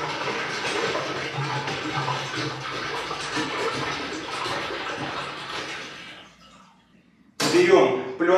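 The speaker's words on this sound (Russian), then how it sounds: "Заливаем чистую воду." Clean water pours steadily into the tank of a BrexFLOW 5000 heating-system flushing pump, a broad rushing splash for about six seconds that stops, followed by a short clatter, with someone speaking over it.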